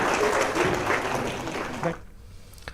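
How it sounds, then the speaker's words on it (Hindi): Dense applause from an audience at a Ranchi ceremony honoring matriculation and intermediate toppers, greeting Saraswati Vidya Mandir School, Kubla; a thick, loud wash of clapping that cuts off abruptly near the end. "जोरदार तालियां"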